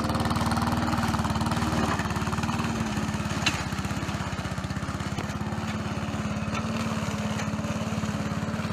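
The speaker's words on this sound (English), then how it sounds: "satisfying lawn mowing job in history." A lawn mower runs steadily while cutting grass, its close engine putting out an even buzzing drone that holds nearly constant throughout, with a few faint knocks and no talking.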